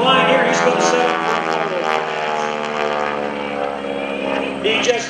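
A propeller airplane with a 1,340 cubic inch, 600 horsepower engine flies overhead at the 2012 Greenwood Lake airshow, its loud, steady, buzzing drone swelling and fading slightly as it passes.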